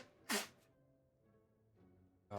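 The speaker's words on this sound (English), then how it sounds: "God, I am sneezing." A single close sneeze bursts out sharply from a person indoors, followed by quiet room tone and a soft rustle near the end.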